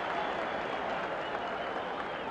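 A boxing arena crowd roars and applauds steadily for Floyd Patterson's ninth-round rally against Oscar Bonavena, a dense, even wall of cheering and clapping with no pauses.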